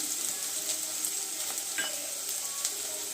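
Onion sautéing in oil in a pan for vegetable biryani, a dense steady sizzle with occasional soft stirring scrapes, close and even, no voices.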